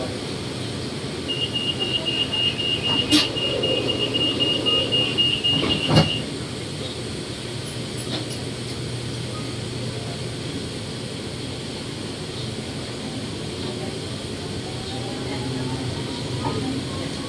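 An electric train on Bangkok's Yellow Line runs between Suan Luang Rama 9 and Lat Phrao 83, heard from inside as a steady rumbling drone with brief high tones and a faint voice early on.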